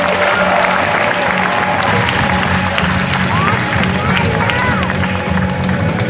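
Applause from the crowd at a sports memorial evening greets the sports minister, a loud, dense and steady clapping with crowd murmur and some voices mixed in throughout.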